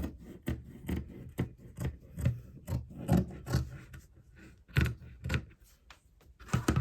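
Scissors snipping through fabric to trim off the selvage edge, a series of close, crisp rasping cuts in an irregular rhythm, quiet and unaccompanied by talk.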